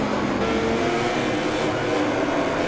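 A Suzuki GSX-RR racing motorcycle in MotoGP 20 screams around the Bugatti circuit at Le Mans. The engine drones continuously and loudly at a steady high pitch with no voices.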